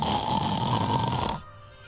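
A voice imitates a person snoring with one long, loud, rasping drawn-out snore that cuts off abruptly, followed by quiet.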